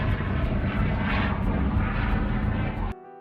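British military aircraft engines drone loudly and steadily, a thick propeller roar that cuts off abruptly near the end.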